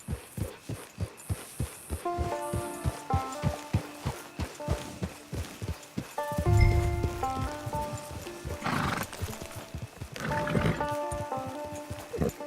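Steady clip-clop of a ridden horse's hooves in Red Dead Online, a regular galloping rhythm up close, with a whinny midway, tonal game music underneath and brief voices near the end.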